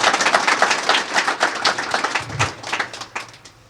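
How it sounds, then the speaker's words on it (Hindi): An audience at a motivational gathering claps loudly in a dense, rhythmic burst of many hands, close and sustained, then slowly thinning toward the end. "आप लोग अपनी जगह पे खतरनाक वाली तालियां बजा सकते हैं।"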